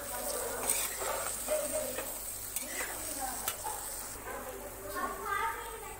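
Masala being stirred in a pan on low flame, soft sizzling with scraping strokes of the spoon repeating through the clip, close and fairly quiet under a faint background hum and a few brief, subdued voices.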